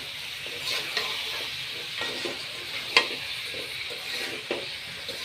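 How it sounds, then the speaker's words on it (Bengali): Diced potatoes and duck meat sauté in a pan, a continuous close sizzle broken by regular scraping stirs and one sharper clink of the spoon, with no talking. "এখন আলুগুলো দেওয়ার পরে আমি আবার ভালো করে কিছুক্ষণ কষে নেব।"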